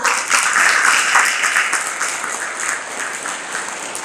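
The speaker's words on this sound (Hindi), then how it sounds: "आगे की पंक्तियों पर आप सबकी तालियां चाहूँगा।" Steady audience applause at a Hindi poetry recitation on religion and caste, dense clapping that holds loud throughout and eases only slightly toward the end.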